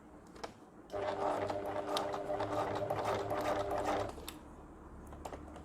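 A domestic sewing machine stitches slowly over pins along a zipper while sewing a small fabric pencil pouch, a steady mechanical whirr lasting about three seconds, bracketed by faint clicks and handling.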